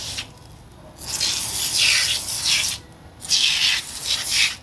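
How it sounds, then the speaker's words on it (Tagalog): Brake cleaner sprayed onto motorcycle brakes in two long aerosol hissing bursts with a short pause between them, close and fairly loud, no talking. "spray na natin to ng brake cleaner"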